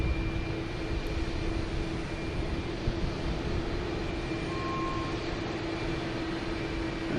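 ITA Airways airliner taxiing at Boston Logan hums with a constant engine drone and a steady tonal whine, continuous and fairly near, with no speech over it.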